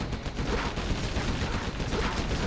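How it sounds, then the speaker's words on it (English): Rapid chain gun fire in the real-time strategy game C&C Generals Zero Hour during a World Series match, a dense continuous rattle of shots with battle noise layered throughout. "Chain gun is in play now."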